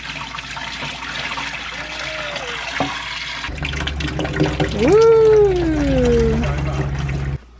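Water pours steadily into a child's bath, a running, splashing rush that gets louder partway through. A voice calls out over the water.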